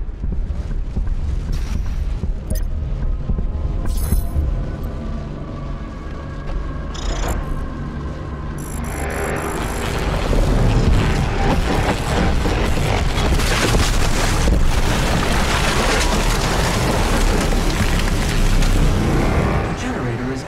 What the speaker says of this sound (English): The generator is overloading.